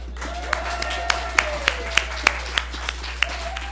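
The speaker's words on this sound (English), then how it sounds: "applause for Sonya" A church audience claps for a pianist, scattered individual claps popping out over a soft bed of applause, while a voice murmurs and a low steady hum runs underneath.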